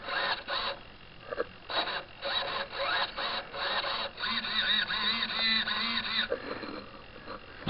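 Servos on an RC Aquila motor glider sweep its control surfaces, giving short, close electric whirring buzzes in quick succession, then one longer, steadier whine before stopping.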